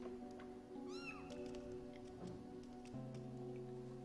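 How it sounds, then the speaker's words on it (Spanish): A cat in the video game Grim Legends: The Forsaken Bride gives a few soft meows over a steady, low musical drone, fairly faint and set back in the game's soundscape. "Mira el gatito como me lo trae todo."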